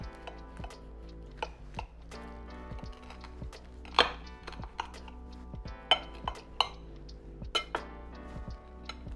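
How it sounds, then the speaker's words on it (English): A knife slices through a crispy breakfast sandwich of ham, egg and cheese, giving a series of sharp crunchy cuts and clicks against a plate, close and otherwise quiet. "Let's do a nice cross section right here. And just cut this right in half."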